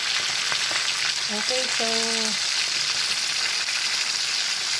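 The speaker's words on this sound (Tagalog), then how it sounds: "Tinatapos ko lang yung pagprito ko ng isda" Fish frying in a pan gives off a loud, steady crackling sizzle that runs the whole time, with a short spoken phrase near the start.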